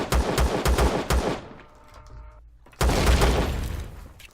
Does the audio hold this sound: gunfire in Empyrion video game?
yes